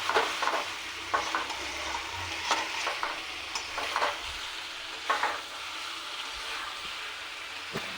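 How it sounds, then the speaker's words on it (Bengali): Spices and potatoes being gently stirred and fried in a pan, giving a soft continuous sizzle broken by scraping spatula strokes, close and moderately quiet. "আলুগুলো দিয়ে এখন আমি আবারও সেই মশলাগুলোকে কষাবো"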